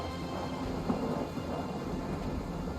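Rain and thunder in the strategy game Total War: Three Kingdoms, a continuous soft hiss of rainfall with a low rumbling undertone, quiet and steady without any speech.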